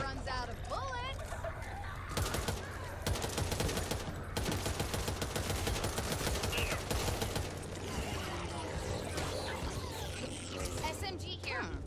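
Rapid bursts of gunfire from the zombie shooter Back 4 Blood, dense and continuous through most of the stretch alongside game effects, with players talking over the shooting.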